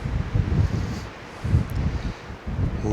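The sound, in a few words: wind at exposed overlook above Chisos Basin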